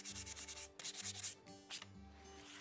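Hand sanding of an antique wooden chair with medium 220-grit sandpaper: rhythmic bursts of rasping strokes, close and fairly loud, with brief pauses between passes and no talking.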